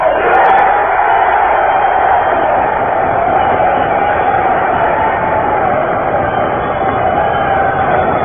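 A dinner crowd at a 1944 Teamsters Union gathering applauds Franklin D. Roosevelt, a steady, hissing roar of many hands in a muffled old radio-style recording that holds at an even, loud level throughout.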